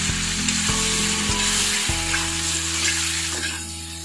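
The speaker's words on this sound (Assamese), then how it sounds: "এতিয়া আমি আলু আৰু পচলা যিখিনি আছিল আমাৰ এইখিনি দি দিম এতিয়া একেলগে দি দিম আমি দি পেলাই ভাজি ল'ম" Onions, potato and banana stem sizzle loudly in a hot pan with oil, a steady close crackle broken by scraping stirs of a spatula.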